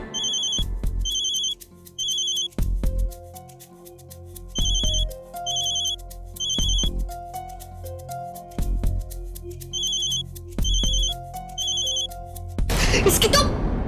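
A telephone rings repeatedly and goes unanswered, with bursts of bright electronic ringing in regular pairs separated by short gaps, close and clear, ending in a burst of noise.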